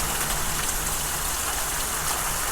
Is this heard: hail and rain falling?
yes